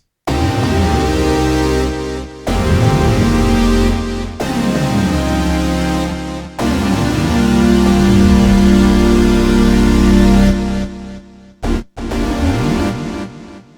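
Warm analog synth pad chords on a Korg Kross 2, each note sliding upward in pitch through a portamento rise before settling and sustaining, played as a series of held phrases.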